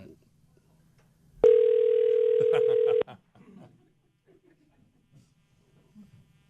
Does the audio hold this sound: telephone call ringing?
yes